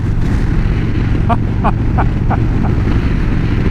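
Strong wind buffets the microphone outdoors, a loud, steady low roar that fills the whole stretch, with a few faint brief chirps above it.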